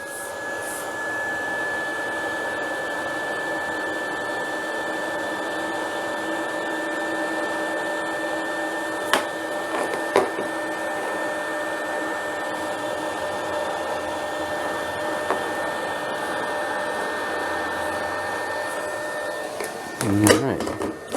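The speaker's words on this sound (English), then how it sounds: "Decided to go with the black heat shrink on this one. Get that shrunk into place." A heat gun runs steadily and fairly close, blowing hot air to shrink black heat shrink tubing over an antenna build, a constant whooshing hum with a few small clicks and handling knocks near the end.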